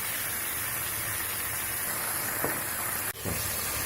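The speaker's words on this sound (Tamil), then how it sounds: "2 மினிட்ஸ் நல்லா இந்த கொடமிளகா இந்த வெங்காயத்தாலாம் வதங்கிட்ட பிறகு இப்போ பூண்டும் இஞ்சியும் போட்டு நம்ம வதக்கிக்கலாம்" Garlic and ginger sauté in a pan after capsicum and onion, making a steady loud hiss with a brief clatter near the end.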